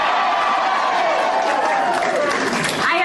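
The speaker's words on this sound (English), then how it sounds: "The crowd at her party, election night party in Morristown, revved up, ready to party." A crowd at an election night party for Mikie Sherrill in Morristown, New Jersey, cheers and claps in a loud, dense roar, with a voice speaking over it.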